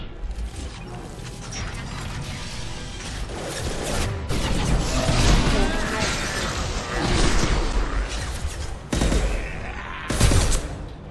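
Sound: sniper rifle gunfire in video game Mass Effect 2

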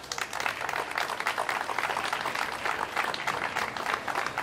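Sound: applause

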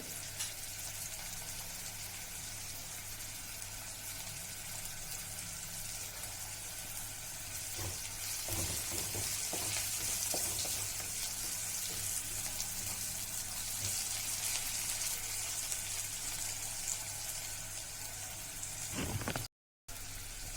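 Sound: cumin seeds frying in oil

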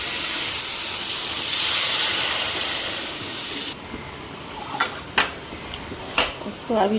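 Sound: adding broth to fried spices in a cooking pot

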